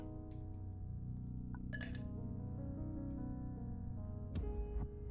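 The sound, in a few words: ice cubes clinking into a glass, from the video game The Red Strings Club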